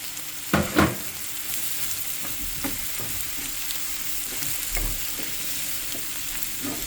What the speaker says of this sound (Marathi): आतां चॉप केली पळय ती प्रॉन्स घालता. बरी फुल्ली कूक जावंक जाय.